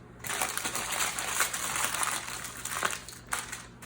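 Aluminium foil is crimped and wrapped tightly around a rack of pork ribs, giving close, loud crinkling and crunching that runs continuously with sharper crackles throughout.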